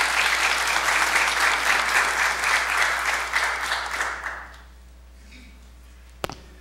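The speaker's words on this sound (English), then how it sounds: "let's give them a big round of applause" A room of attendees at a manufacturing industry briefing claps in sustained applause that fades out over a second or two, followed by near silence and a single sharp knock.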